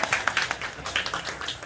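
A church congregation claps briefly, a light scattered patter of hands that fades after a moment.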